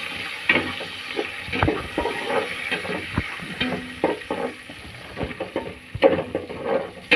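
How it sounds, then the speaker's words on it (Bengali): Cardamom and bay leaves frying in hot oil for pilaf, a close sizzling crackle with scattered pops and the clatter of a spoon stirring in the pan, no voices. "তেলের মধ্যে এই তেজপাতার মধ্যে দিয়ে দিলাম।"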